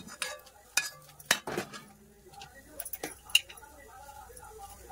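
Amaranth leaves go into a pan for chutney: light clinks of a utensil against the pan and scattered rustling, close by, with someone talking over it.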